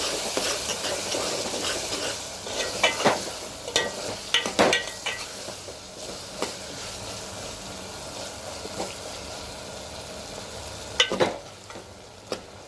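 Ginger garlic paste and curry leaves being stirred in a hot pan, with a steady sizzle and frying crackle throughout and scattered scraping clinks of a spoon against the vessel, close and moderately loud.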